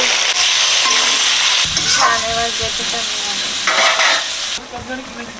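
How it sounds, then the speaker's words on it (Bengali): Prawns frying in hot mustard oil in a kadai with salt and turmeric, giving a loud, steady sizzle with stirring and scraping that continues throughout, easing slightly near the end. "চিংড়ি মাছ ভেজে নেবো, তেল গরম হয়ে গেছে, লবণ দিয়ে দিচ্ছি, হলুদ দিয়ে দিচ্ছি।"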